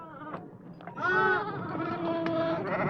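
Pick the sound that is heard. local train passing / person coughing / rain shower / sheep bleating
sheep bleating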